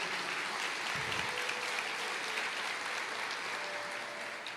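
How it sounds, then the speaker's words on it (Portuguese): Steady, dense applause from a church congregation fills the whole stretch, continuous and moderately loud without pauses. "Aplauda o Senhor."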